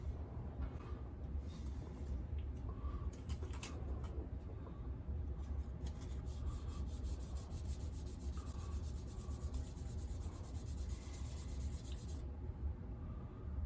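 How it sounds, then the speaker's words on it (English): Sanding cured putty along a seam on a model car body of the wrecked original Eleanor Mustang from Gone in 60 Seconds, a steady close scraping and rubbing that runs continuously and quietly throughout. "my second coat of putty has dried and cured up enough that I will once again sand that down"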